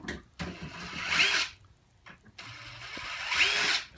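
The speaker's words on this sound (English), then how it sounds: "Go ahead and use the screws and screw the ends back down." A power drill drives screws into the ends of a bypass door track in two close, loud bursts of whirring that rise and then stop, with a short pause between them.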